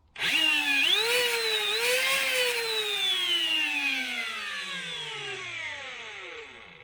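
High-pitched Nerf blaster flywheel motors, LiPo-powered, whir up sharply, dip and rev again, then slowly wind down over several seconds, loud and close with no talking.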